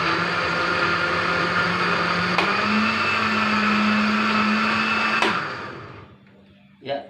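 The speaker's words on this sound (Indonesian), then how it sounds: "semua bahan sudah terhaluskan di blender dengan halus" A blender grinds lemongrass for a homemade botanical pesticide, a loud steady motor whir that shifts pitch partway as the blades bite, then cuts off near the end, leaving a brief quieter tail.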